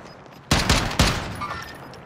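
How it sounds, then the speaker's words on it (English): Two sharp, loud gunshot bursts ring out in Call of Duty Warzone about half a second apart, each followed by a decaying echoing tail, close by with no talking over them. "I am under fire."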